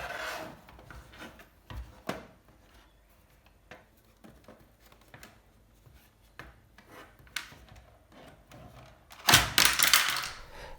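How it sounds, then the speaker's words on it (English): An Audi A4 B5 instrument cluster housing being pried and snapped open: scattered soft plastic rubs and clicks build to a loud, close cracking burst near the end, with no speech. "with everything in the right place and all the right things unfastened, the housing just opens right up"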